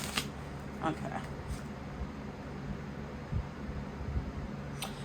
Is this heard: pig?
no